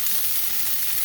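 Minced garlic sizzles in a hot cast iron pan, a bright steady frying hiss with a faint low thump near the start, close and continuous without any talk.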